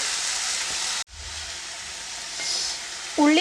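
Sprouted legumes fry in hot oil for a vegetable stir-fry, giving a steady loud sizzle that breaks off briefly, returns, and ends with a short clatter of stirring.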